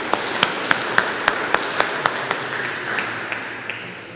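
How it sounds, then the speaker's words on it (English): Church congregation applauding during a service at Minchinhampton, a sustained wash of clapping with a few crisp, evenly spaced claps standing out near the front, gradually thinning toward the end. "I think we should all give ourselves a big round of applause."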